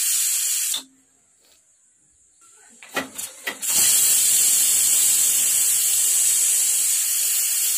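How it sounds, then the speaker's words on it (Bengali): A pressure cooker cooking baby khichuri lets out a loud, continuous hiss of escaping steam. A few short bursts come first, then the hiss rushes out steadily and fills the rest of the clip. "তো প্রেশার কুকারে সিটি পড়ার জন্য ওয়েট করব।"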